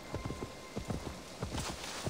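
Horse hooves clip-clopping in Assassin's Creed Valhalla, a steady run of close, moderately loud hoofbeats carrying two riders, continuing without pause.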